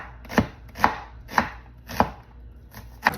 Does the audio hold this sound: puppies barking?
no